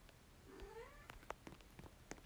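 A house cat meows close by, a single rising and falling call followed by faint scattered clicks, heard over quiet background noise while someone plays the Roblox game Piggy.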